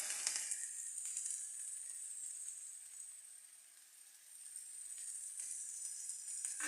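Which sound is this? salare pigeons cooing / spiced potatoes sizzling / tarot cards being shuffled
spiced potatoes sizzling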